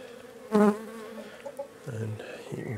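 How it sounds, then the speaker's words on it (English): Honey bees buzzing around an open beehive on a farm, a close hum with one loud buzzing pass early on, then lighter droning, with a chicken faintly audible. "There's a bee licking it up."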